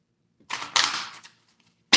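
Tarot cards shuffle in two or three quick riffling bursts, close and crisp, separated by brief silence.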